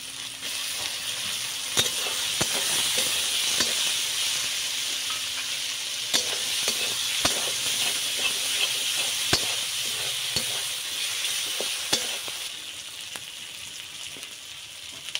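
Chopped tomatoes go into mutton frying with dried chili paste, producing a loud, continuous sizzle broken by regular sharp clicks and scrapes of a spoon stirring the pan.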